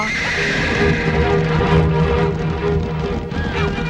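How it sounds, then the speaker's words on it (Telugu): A wild horse neighs in a Telugu film scene, a loud, drawn-out whinny over a busy, continuous background of hooves and movement. "ఇదెట్టా గుర్రం వెనక్కు పోతుందో."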